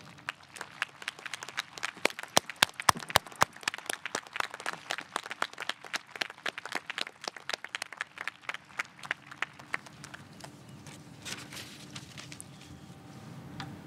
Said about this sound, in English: And please give a round of applause for Professor Gerhardt and his family.